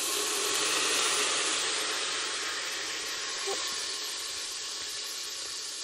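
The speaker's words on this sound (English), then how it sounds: "And that steam is really hot." Steam hisses hard and steadily from an Instant Pot while pulled pork is being deglazed, a loud, continuous broadband rush that holds for several seconds with one faint click partway through and no speech.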